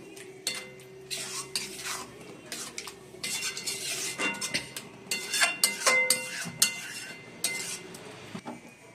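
A spoon stirring chhana besan curry in a pan, repeated close scraping and clinking strokes against the metal in irregular bursts, with a faint sizzle underneath and no talking.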